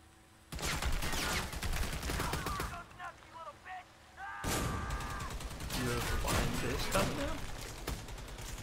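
Gunfire in the video game Army of Two, with loud bursts of automatic fire and rattling shots cutting in and out, a short lull of scattered shots in the middle, and players talking over parts of it.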